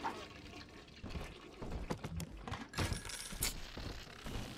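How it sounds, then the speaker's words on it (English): Toilet flushing in BioShock 2, a watery rushing gurgle that comes in several swelling surges over a few seconds amid game ambience, with no talking. "And flush."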